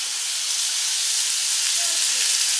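Oil and onions sizzling in a hot pan during home cooking of a prawn dish, a steady, loud, broadband hiss that holds evenly throughout with no talk over it.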